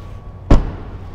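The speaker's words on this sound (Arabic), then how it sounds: "اسمع صوت ردعه الباب، لاحظ ردعه" The door of a 2024 BMW 520i sedan shuts with a single solid, heavy thud, close and loud against a quiet background.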